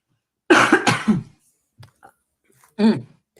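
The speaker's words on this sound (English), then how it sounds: "I'm going to cough a little bit." A short burst of two coughs, then faint throat noises and another single cough after a pause, close to the mic in a quiet room.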